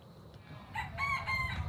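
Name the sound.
rooster crowing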